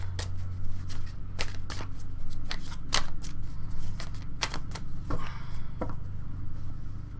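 Tarot cards being shuffled close by, a continuous riffling flutter broken by sharp slaps and taps as the deck is handled, no voices.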